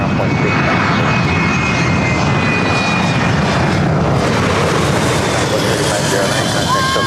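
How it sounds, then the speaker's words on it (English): Corporate jets at LAX airport fill the air with a loud, steady engine roar that stays close and unbroken throughout, with no clear talking. "Back-to-back corporate jets."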